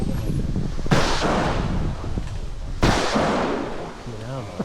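Shotgun firing at clay targets at an outdoor clay pigeon shoot, with two sharp loud blasts about two seconds apart, each followed by a decaying rumble, and a voice talking near the end.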